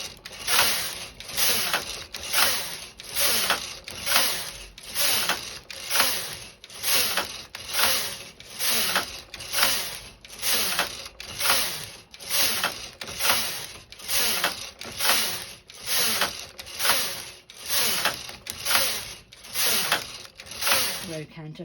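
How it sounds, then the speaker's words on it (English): A standard gauge knitting machine knits rows of a fingerless glove, the carriage making repeated rhythmic ratcheting, clattering passes about once per second, steady and close throughout. "I next knit to row counter 54"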